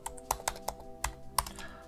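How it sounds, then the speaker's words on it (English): Keystrokes typing a terminal command on a computer keyboard, about eight distinct close clicks in an uneven rhythm, with a faint steady hum underneath and no talking. "you'll just type sudo python"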